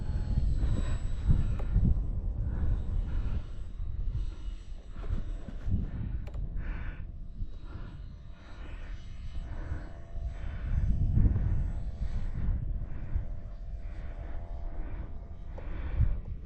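An E-Flite Valiant 1.3M RC plane flies overhead with a steady electric motor whine that swells and fades slightly as it climbs, loud and continuous throughout with outdoor wind noise beneath.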